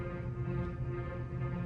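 A processed atmospheric pad layer from an electronic remix, the brighter upper layer, sounds as a steady, softly shimmering sustained drone with a gentle wavering texture, quiet and continuous with no speech.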